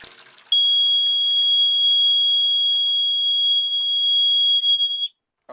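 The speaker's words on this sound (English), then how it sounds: "this is just a test to make sure my water alarm is working" A Watchdog water alarm under test gives one loud, steady, piercing high-pitched tone that holds for about four and a half seconds, then cuts off abruptly.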